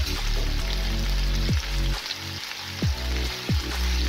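Red and green capsicum fry in a hot pan, a steady crackling sizzle with a few sharp clattering stirs or taps, close and without talk.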